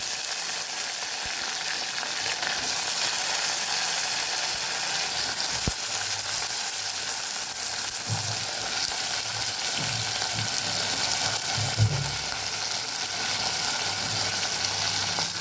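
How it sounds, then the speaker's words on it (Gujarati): Potatoes fry in oil with ginger and green chilies for a Gujarati dry potato dish, a steady, loud sizzle filling the pan with faint stirring scrapes and clinks now and then, no voices. "આદુ અને મરચાં સરસ સતળાઈ ગયા છે, તો અહીંયા આપણે બટેકા ઉમેરી દેશું।"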